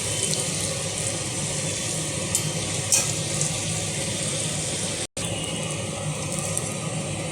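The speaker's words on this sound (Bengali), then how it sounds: "উচ্ছেটাকে বেশ ভালো করে ভেজে নেব।" Slices of bitter gourd fry in hot oil in a pan, giving an even, continuous hiss with a brief cut-out near the end and no one speaking.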